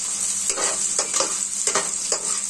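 Onions and eggs fry in a pan with a bright, constant sizzle, with several short bursts of stirring or spattering laid over the hiss, close and fairly loud.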